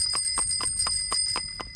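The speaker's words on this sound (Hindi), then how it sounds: "घंटी वेखे किंज वजदी है।" A tonga horse cart bell rings in a radio play, about seven quick evenly spaced metallic dings over a steady background hum, close and clear with no voices.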